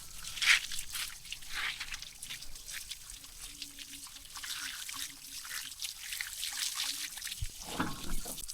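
Water trickling and splashing during a wash of a Mahindra Yuvo Tech Plus 585 4WD tractor, a steady wet hiss with intermittent sloshes, close by, and a brief louder splash near the end.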